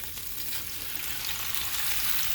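Salmon fillets pan-fry for a teriyaki glaze, giving off a steady, dense sizzle that holds at an even level throughout with no talking.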